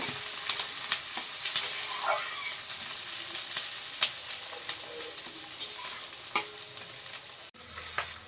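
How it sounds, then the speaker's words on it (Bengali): Steady sizzling of onions frying in a pan, a continuous crackle with occasional clicks of stirring, no voices. "পেঁয়াজটা একটু ব্রাউন ব্রাউন করে ভেজে নিতে হবে"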